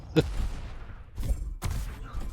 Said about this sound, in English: Hadriel's just doing a lot of damage with the rockets in these fights